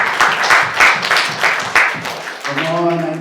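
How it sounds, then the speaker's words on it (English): A church congregation gives a clap of praise during a sermon. Quick bursts of clapping come in a loose, pulsing rhythm before a voice begins speaking near the end. "why don't we give a clap of praise to our Lord?"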